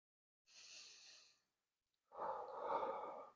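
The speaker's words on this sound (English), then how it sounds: "I know you guys have seen me breathe like this in videos before" Slow, deep controlled breathing close to the microphone, one long airy inhale followed after a pause by a fuller, rougher exhale, with no talking.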